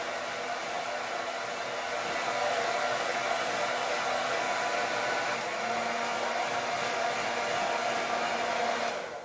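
A hair dryer blows steadily to dry freshly applied paint layers, a constant loud broadband whoosh running nearly unchanged for the whole stretch before cutting off at the end.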